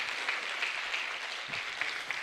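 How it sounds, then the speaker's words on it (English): An audience at a medical class finalist dinner claps for Dr. Gabriel with sustained, dense applause. The clapping is fairly distant and moderately quiet, steady throughout with brief louder bursts, and no one speaks. "So when we ask you to clap, you don't know what we are trying to do here. So wapi makofi ya Dr. Gabriel"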